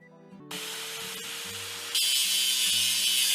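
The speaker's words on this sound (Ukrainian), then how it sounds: "Перетягнемо шліфувальну машинку на шов, щоб зрівняти його." An animated angle grinder smooths a weld seam with a steady, loud, hissing grind that gets louder partway through. A simple cartoon musical tone plays underneath.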